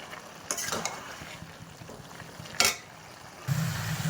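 Cabbage stir-frying in a home kitchen pan with a little sugar added, giving a steady low sizzle broken by a few sharp utensil scrapes and a louder stirring burst near the end.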